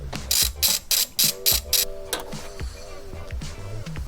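Ratchet with an extension working a bolt behind the air box of a 2022 Subaru BRZ: a run of six or seven sharp, evenly spaced clicking bursts up close, then a few fainter clicks and metallic handling noises.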